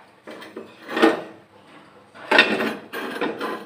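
A puffed rice and sugar mixture is tipped from a pan, giving two short clattering, scraping bursts of grains and metal close by, separated by a brief pause.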